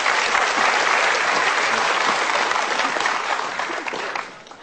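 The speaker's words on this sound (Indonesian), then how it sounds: "Kita berikan tepuk tangan, boleh?" A television studio audience claps as guests are invited onto the stage, a loud, dense wash of applause that holds steady and then tapers off at the end.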